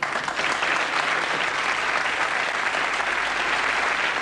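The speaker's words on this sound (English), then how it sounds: "all I have to do to elicit a sympathetic round of applause is to shake my head in horror" Studio audience applause from a British sketch comedy show, a dense, steady wash of clapping that stays loud and even throughout with no talk over it.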